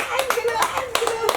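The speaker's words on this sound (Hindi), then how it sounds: "कथी ले तोरा के ताली बजबै छी" Hands clap in a quick, uneven rhythm, roughly seven or eight sharp claps in a short burst, close by, with a voice speaking over them in a Maithili short-film scene.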